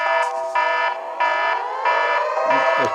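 A wailing alarm siren with a pulsing on-off pattern, about four loud bursts in three seconds, with a few low knocks near the end.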